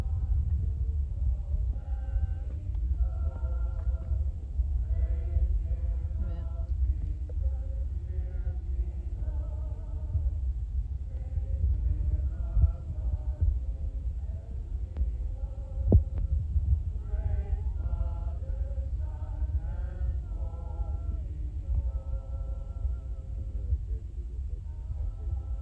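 A tour group sings together in the ancient theater at Philippi, heard from about a third of the way up the seating: sustained, blended voices carry steadily through the open-air space, moderately loud over a low rumble, with no talking.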